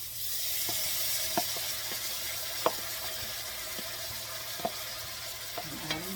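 Chopped vegetables go into a seafood gumbo pot and fry with a continuous broad hiss, punctuated by several light clicks of a spoon against the pot, close by with no speech.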